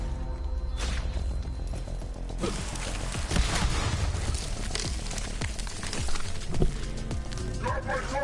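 A hostile dog in the video game Borderlands 3 barks and whimpers repeatedly amid game effects and music, with a player talking over the action.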